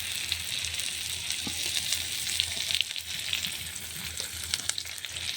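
Garlic and bay leaf frying in hot mustard oil in a pan, giving a steady, dense crackling sizzle with scattered sharp pops that runs unbroken throughout, close up and with no voices.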